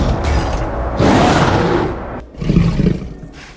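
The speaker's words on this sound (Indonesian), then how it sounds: "mereka segera mendengar raungan dan segera memutuskan untuk bersembunyi, sambil mengawasi seekor harimau zombie berpatroli di wilayah itu" A zombie tiger in a film lets out loud, raspy roars in two bursts, mixed with creaking, mechanical sound effects.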